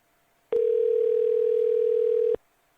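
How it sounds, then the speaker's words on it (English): A telephone line gives a single steady dial tone as a call to an AI voice line begins dialing. The tone is loud and clean, holds for nearly two seconds and then cuts off sharply, with quiet surroundings on either side. "Lyndon, give me a thumbs up if you can hear this when it starts to dial"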